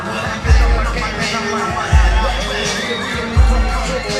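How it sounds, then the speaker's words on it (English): Crowd at a wrestling event roars and cheers around the ring as wrestlers come to the apron, a dense wash of voices with three heavy thumps recurring about every second and a half. "You can hear that crowd going wild."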